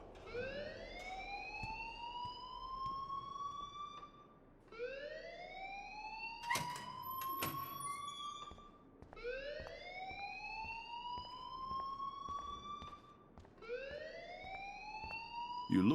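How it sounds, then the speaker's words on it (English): School alarm in the video game Life Is Strange: a rising electronic wail repeats in cycles of about four seconds, loud and mechanical, with no talking. "please turn off that alarm since that's your job"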